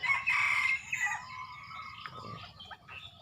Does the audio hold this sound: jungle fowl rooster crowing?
yes